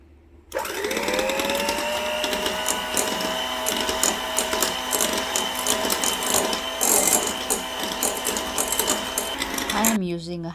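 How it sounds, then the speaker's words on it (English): Electric hand mixer beating room-temperature salted butter with granulated sugar for a cake batter, a steady close motor whir with rattling beaters that starts abruptly and runs continuously for about ten seconds before cutting off. "I am using a hand mixer for this recipe."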